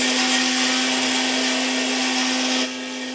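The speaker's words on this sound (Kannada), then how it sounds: "ಮಿಕ್ಸರ್ದಾಗ ಬಜ್ಜಿ ಮಾಡ್ತೀನ" A kitchen mixer grinder whirs loudly and steadily as it grinds bajji batter, a constant motorized whine that drops in level near the end.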